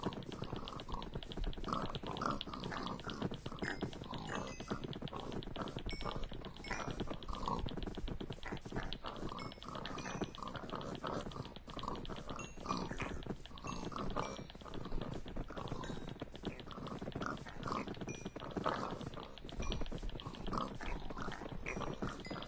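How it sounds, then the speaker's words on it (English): Pigs oink and grunt in the Minecraft video game, many overlapping snorts in a busy cluster, fairly quiet and continuous, with clicking sounds mixed in. "Yeah, we have way too many pigs."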